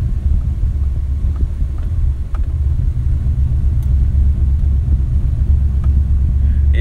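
A Nissan Titan pickup with clogged catalytic converters idles and rumbles heavily, a loud, deep, uneven low drone held close for the whole stretch with a few faint clicks on top.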